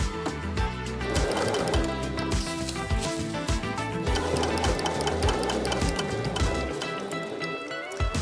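Sewing machine stitching a reinforcing bartack at the end of a backpack strap, a close, loud rapid mechanical stitching chatter running in bursts with brief pauses throughout eight seconds.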